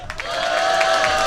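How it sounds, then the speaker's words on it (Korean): Festival crowd at an outdoor folk performance applauding and cheering, a dense steady roar of clapping and shouts with a sustained tone running through it. "박수와 함성"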